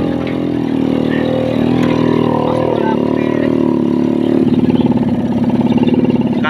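A motorcycle engine labours steadily up a steep mountain road, its mid-pitched drone straining and rising in tone near the end, loud and close with no talk over it.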